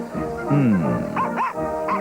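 Dog barks and whimpers in a 2001 TV commercial: a close, loud run of yapping barks with a drawn-out whining whimper in the middle, set against a steady background bed.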